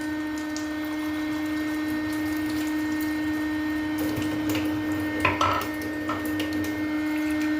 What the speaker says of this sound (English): Now let's wash the CPU with Kangen water.